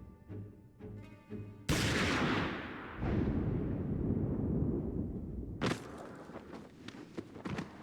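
A single loud gunshot in a video game, a sudden sharp crack with a long echoing decay, following a musical passage and later joined by another burst of noisy clatter.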